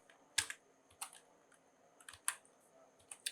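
Code being typed on a computer keyboard: quiet, sparse key clicks in small irregular clusters, close to the microphone against a faint background hum, with no speech.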